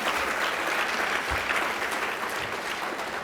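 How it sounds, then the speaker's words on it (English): An audience at an awards event claps steadily and evenly, a soft, continuous wash of many hands at moderate distance, with no voices over it. "Yeah, they do deserve a round of applause, eh?"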